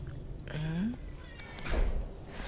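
A cat meows once amid many cats at a crowded animal shelter, a short rising cry up close, with people talking nearby before and after.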